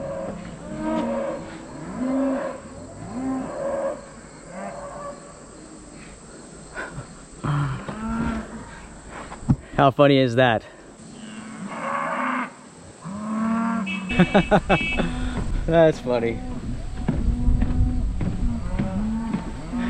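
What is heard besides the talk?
cows mooing excitedly while being fed on a farm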